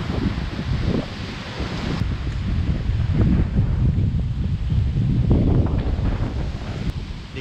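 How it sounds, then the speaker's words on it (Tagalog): Strong wind buffets the microphone in continuous low gusts, loud and close, with a faint rustle beneath and no one speaking. "Hangin."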